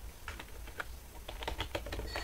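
Someone types a stock name into a search box on a computer keyboard, producing quiet, irregular clicks of individual keystrokes at close range with no talking.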